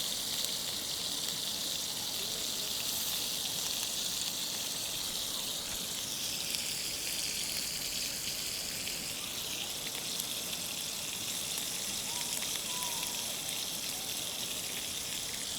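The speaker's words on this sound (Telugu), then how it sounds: "మొక్కలు మంచిగా ఫ్రై అవుతున్నాయి" Village-style chicken pieces frying in a pan, giving a steady, even sizzle and crackle that runs unbroken from start to finish with no voices over it.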